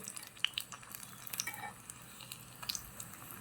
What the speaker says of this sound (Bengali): দেখো বন্ধুরা নুরায়া কিন্তু প্রথম বেগুনিটা দিয়ে দিয়েছে তেলে